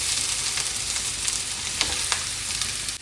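Coconut oil sizzles and crackles steadily in a cooking pot, a loud, close, continuous frying hiss with a few faint clicks, with no talk.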